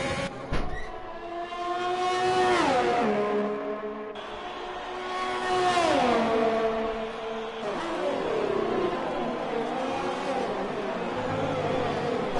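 Race car engines in a racing video game at the Bahrain track, loud revving that climbs and drops in repeated sweeps as cars pass and shift, with a brief cut partway through.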